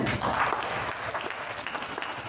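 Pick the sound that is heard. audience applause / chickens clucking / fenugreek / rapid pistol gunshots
audience applause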